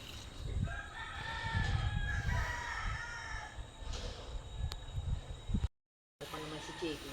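Chickens clucking and a rooster crowing at a rural vegetable garden beside a stream, moderately near, under ongoing conversation.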